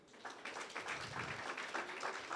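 A church congregation claps together for a couple of seconds, a faint, dense patter of many hands in a large room.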